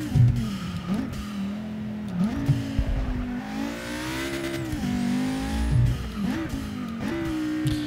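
Engine note of a racing-game car, a Volkswagen R or Audi RS3 hatchback, climbing in pitch and dropping sharply at each quick gear change, repeated several times, loud and steady with no talk.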